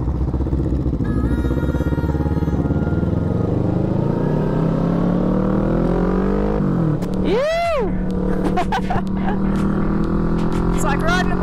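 A Honda Rebel 500 motorcycle on the road, with a steady loud engine drone and wind rush, the pitch slowly rising as it speeds up and then settling, with a brief whistling sweep near the middle.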